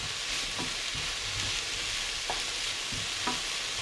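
Mixed vegetables stir-fried in a hot pan, with a steady broad sizzle throughout and a few sharp clinks of a spatula against the pan, close and loud with no talking.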